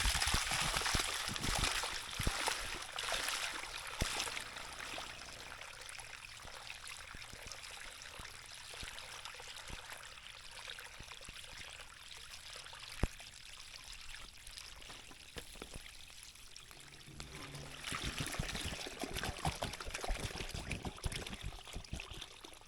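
Water pouring and splashing out of a small wheel loader after it has been filled and flushed to clean it out, a steady rushing stream with louder gushes at the start and end.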